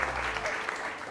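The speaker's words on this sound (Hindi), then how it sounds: "बहुत सारी तालियां डॉक्टर मोइज के लिए" Studio audience on a TV morning show applauding Dr. Moiz, a short burst of brisk clapping at close range with a voice briefly audible underneath.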